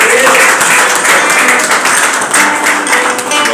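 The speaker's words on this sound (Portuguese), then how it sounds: "Aplaude ao Senhor, igreja." A church congregation applauds together during a Pentecostal Baptist men's congress service: steady, dense clapping that holds at full loudness for several seconds, with voices mixed into the crowd.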